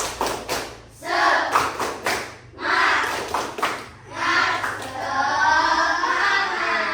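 A class of primary schoolchildren performs a rhythmic 'tepuk semangat' routine, loud claps and table thumps in quick patterned bursts, with the children chanting in unison between and over the beats.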